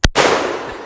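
A single sharp, loud crack from a Henry lever-action .44 Magnum rifle fired at steel targets outdoors, followed by a brief rumbling echo.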